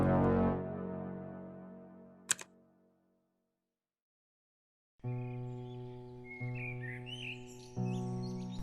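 Small birds chirp and tweet in a high, quick flurry over a steady tonal background after a short silence, with an earlier sharp click, as on a late spring day in New York.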